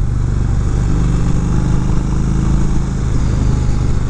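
Engine of a 2019 Indian Chief Dark Horse motorcycle while riding, a steady loud low rumble held without a break, close and alone with no talk.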